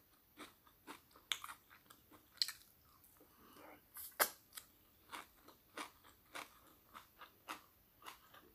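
Close, quiet crunching and chewing while eating fried fish and mushroom larb, a steady run of crisp bites spaced about every half second with no talk.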